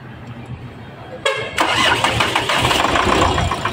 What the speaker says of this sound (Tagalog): Unang andar ay palyado yung makina.